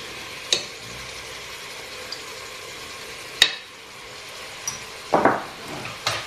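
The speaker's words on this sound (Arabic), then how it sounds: "غادي نخلط هادشي" Meat being stirred in a pot with cumin, saffron and other spices: a quiet scraping stir with a few sharp metallic taps of the spoon against the pot, then a brief flurry of clinks near the end.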